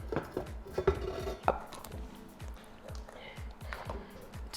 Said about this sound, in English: now I'm going to switch to doing this by hand to make sure that I'm getting all of the batter off the sides